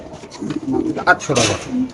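Racing pigeons in breeding cages, a ringed young cock among them, give low throaty coos that swell and fade, close by, mixed with nearby talking.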